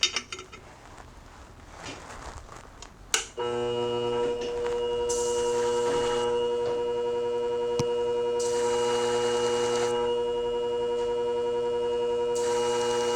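A Centrix shear's bumper is trimmed on a grinding wheel: a short scrape and clatter, then a sustained whining, ringing grind with surging harsh bursts as metal meets the wheel.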